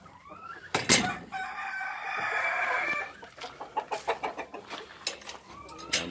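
Cemani chickens at a breeding farm: a rooster crows loudly nearby, followed by a quick series of sharp clucks from hens, with faint voices in the background.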